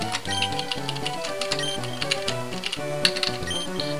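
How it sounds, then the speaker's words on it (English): Rapid, clattering keystrokes tap away continuously at close range, an uneven rhythm of typing over a quiet, tonal background. "sorry if you can hear my keyboard in the background"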